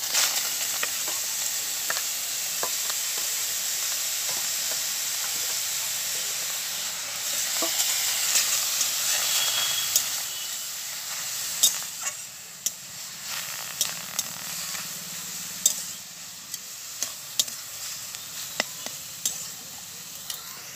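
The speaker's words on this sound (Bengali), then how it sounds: "এবার আমি কড়ার মধ্যে দিয়ে দিলাম ড্রাগন ফলের শাঁসটা।" Dragon fruit pulp cooking in a wok, giving a steady close hiss of frying that swells midway, then scattered clicks and scrapes as it is stirred.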